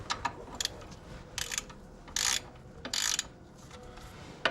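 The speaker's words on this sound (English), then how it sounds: "Now we're going to go ahead and snug these bolts up." Ratchet wrench snugging the clutch pressure plate bolts on a Mazda Miata during a clutch upgrade, heard as several short bursts of clicking spaced through the stretch, moderately close with quiet gaps between turns.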